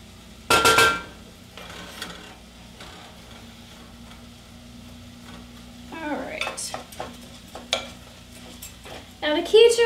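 Mushrooms dropped into a little hot olive oil in a pan while risotto cooks, giving a loud burst of sizzle followed by quieter frying and several scraping stirs and clinks of a utensil against the pan.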